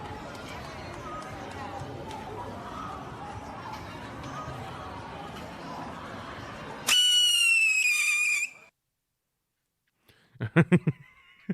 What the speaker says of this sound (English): you might want to let go of the firework once it starts